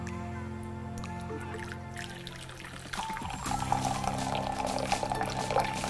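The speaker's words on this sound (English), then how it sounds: "So first, we're going to measure in our 150 milliliters of the hot water." Hot water, 150 milliliters, poured into a vessel for butterfly pea tea, starting after a quiet stretch with a low hum and growing into a steady, close trickling splash that runs to the end.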